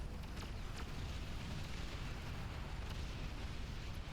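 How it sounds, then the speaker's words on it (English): In the strategy game Beyond All Reason, flak cannons fire at dragons in a continuous, dense rumble of blasts and bursts, with no voices. "Look at these flak cannons. They're trying to chip away at the dragons"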